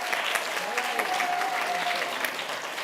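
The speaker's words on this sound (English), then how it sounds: "Let's give them a round of applause." Sustained audience applause at a children's literature quiz world final, steady, even clapping from a sizeable crowd with a faint tonal whistle-like line running through it and a speaking voice faintly underneath.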